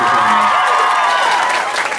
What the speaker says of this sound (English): we give a round of applause for this lovely gentleman on the board